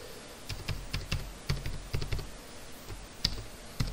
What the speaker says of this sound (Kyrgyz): Андан кийин бул жака ошол паролду кайра кайталап жазабыз.